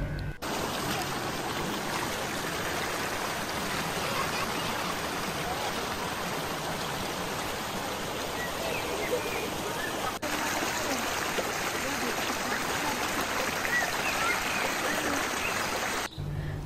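A river flows beside a forest campsite in Taman Kopi Guntang, a constant close rush of water that runs unbroken at even loudness throughout.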